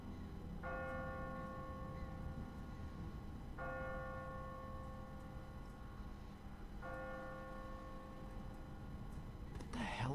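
Slow tolling of a church bell in The Walking Dead video game: three resonant strikes about three seconds apart, each ringing on over a low ambient hum, with a brief noise at the very end.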